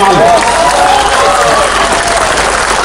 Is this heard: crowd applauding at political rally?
yes